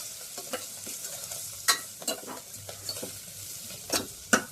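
Fenugreek leaves fry with red chilli powder in a pan, giving a soft ongoing sizzle, with several sharper scraping stirs from a spoon at irregular moments.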